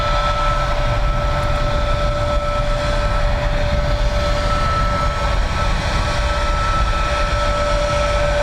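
An Airbus A320 at Dublin Airport produces a loud, continuous engine roar with a steady whine, constant throughout with no talking.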